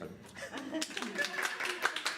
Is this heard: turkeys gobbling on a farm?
no